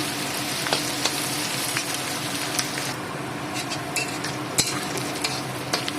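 Chopped onions frying in oil for a chicken curry, turning brown, with a steady close sizzle and scattered sharp crackles and pops throughout, no voices.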